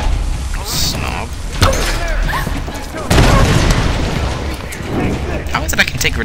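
Grenade explosions in Tomb Raider, several loud booms with debris bursts scattered through a noisy fight in geothermal caverns, with someone talking over them.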